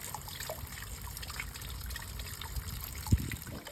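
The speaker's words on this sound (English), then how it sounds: "got the hose connected to it, just flushing it through to see what comes out" Water from a garden hose flushes through a removed Land Rover Defender 300Tdi heater matrix, a steady close trickle and splash with one brief louder gurgle near the end and no talking.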